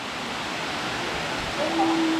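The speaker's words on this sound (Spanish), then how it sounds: "la voz de la cascada de abajo" A waterfall rushes steadily below in a Colombian Caribbean setting, a broad continuous wash of noise with a faint tonal whistle near the end.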